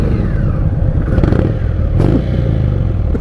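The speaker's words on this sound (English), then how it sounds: "freaking stock exhaust is all breathy" A 2019 Indian Scout Bobber motorcycle running on its stock exhaust gives a steady, close, breathy engine rumble with a slight rise in revs, continuous throughout.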